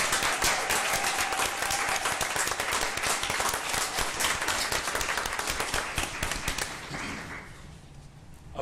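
Attendees at a school board meeting give a big round of applause, brisk dense clapping that stays strong for several seconds before thinning out and fading near the end.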